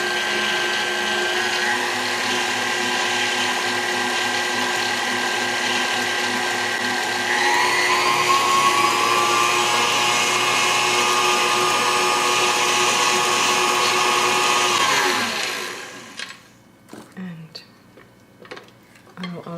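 An electric mixer whirs steadily through German cheesecake batter at slow speed, close and loud for about fifteen seconds, then cuts off, leaving light clinks and handling sounds.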